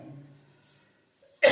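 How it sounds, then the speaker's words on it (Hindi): A single short, sharp cough from a teacher during a physics lesson, sudden and fairly loud after near silence and faint speech. "थोड़ा खांसी ज्यादा है"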